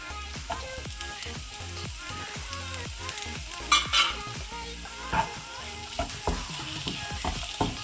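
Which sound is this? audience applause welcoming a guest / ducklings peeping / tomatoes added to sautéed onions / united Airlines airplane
tomatoes added to sautéed onions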